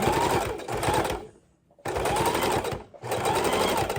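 A sewing machine runs straight stitches through lace trim on a junk journal cover, humming and rattling loudly up close in two bursts split by a brief near-silent pause.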